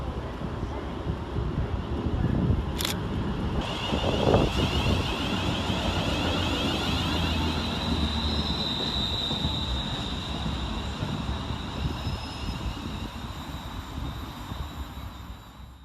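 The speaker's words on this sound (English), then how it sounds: "here comes our train 350-114, working the 1346 West Midlands Railway service from Birmingham New Street to Wolverhampton" West Midlands Railway train 350-114 rolls into Smethwick Rolfe Street station, a broad rumbling roar with a sustained high whine, loud and continuous, over wind buffeting the microphone.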